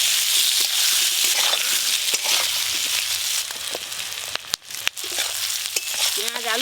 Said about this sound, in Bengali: পেঁয়াজ আলু ভালো করে ভাজা হয়ে গেছে